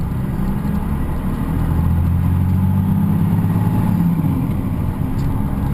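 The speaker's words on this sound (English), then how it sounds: "Exhaust brake's off because I'm accelerating." A 6.2L Cummins diesel pulls under throttle with the exhaust brake off, a loud, steady low engine drone that swells slightly in pitch and stays close and continuous with no talk.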